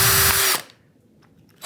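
A power drill whirs loudly for about half a second while boring a screw shank hole into wood end grain, then stops abruptly, leaving near silence before another burst begins at the end.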